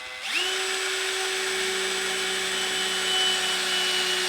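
A power drill spins up with a rising whine and holds a steady high-pitched hum, drilling continuously for a few seconds.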